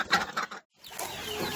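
A hen clucks near newly hatched chicks in an indoor room used for setting eggs, where ducks are also kept. There are a couple of short close bursts, a brief pause, then softer, steadier clucking and rustle.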